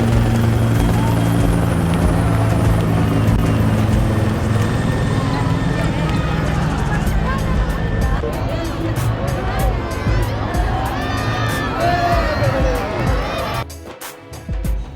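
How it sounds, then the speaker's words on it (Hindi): A helicopter passes low over a Republic Day parade in Lucknow while showering flowers, its rotor thump loud and close at first, then shifting and fading slightly as it moves on, with crowd noise underneath. "इतने में एक हेलीकॉप्टर आया और लखनऊ वासियों के ऊपर पुष्प वर्षा करते हुए आगे की ओर बढ़ गया"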